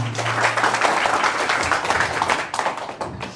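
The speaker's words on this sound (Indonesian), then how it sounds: "Aplaus buat kita semua." Audience applause at a seminar, a roomful of people clapping steadily for a few seconds, fairly even and moderately loud, trailing off at the end.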